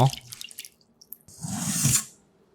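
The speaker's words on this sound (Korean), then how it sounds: "양배추 반주먹 정도를 곱게 채 썰고 물에 담가 깨끗이 씻어주고요." Finely shredded cabbage washed in water, a few soft drips and splashes followed by a brief louder swish of water, close and without talk.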